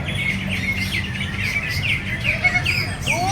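Songbirds chirp and trill in repeated bursts at a bird singing contest in Balikpapan Regency, Indonesia, over a steady bed of crowd murmur and background noise.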